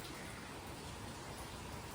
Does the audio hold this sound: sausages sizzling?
no